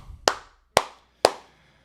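Three sharp, evenly spaced hand claps ring out close and crisp, each one followed by a short decay, with silence between them and no talk.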